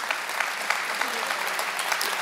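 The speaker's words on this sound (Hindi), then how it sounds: "आप एक बार उनके लिए ताली जरूर बजाएं" Audience applause at a mushaira poetry gathering in Kolkata, a continuous even clapping from a large seated crowd with a few sharper claps standing out, heard on its own.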